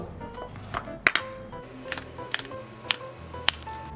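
Spoon scooping mashed potato in a kitchen, sparse metallic clinks and taps of the spoon against a dish over a quiet background, a few sharper ticks standing out.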